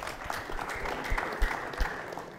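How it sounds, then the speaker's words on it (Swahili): Applause from a school audience at a Kiswahili arts performance in a secondary school hall, a steady wash of clapping at moderate level with a few louder claps standing out. "Makofi tumpigie."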